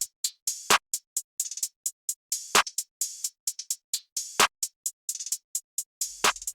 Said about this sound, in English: some open hats, just to also give it a little bit more rhythm.